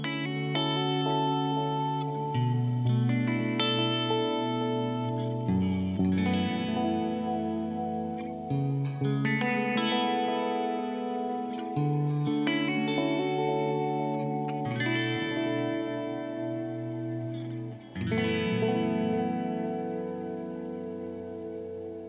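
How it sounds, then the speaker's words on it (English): Electric guitar run through a multi-effect pedal set to chorus with a touch of particle reverb, playing slow, spacious textural chords that ring and shimmer continuously, changing every few seconds with warm, wavering sustain and no talking. "I'm going to mix that with some chorus and a little bit of the particle reverb"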